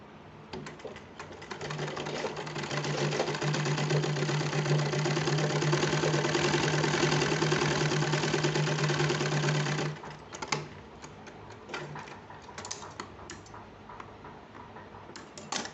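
A sewing machine runs a slanted seam on a child's kurta, whirring close and steady for about ten seconds with a strong low hum, then stops. Scattered faint clicks and handling noises follow.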